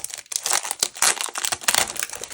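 A sheet of planner stickers is handled and crinkled up close, a continuous run of crisp, uneven crackling and rustling pulses with no talk.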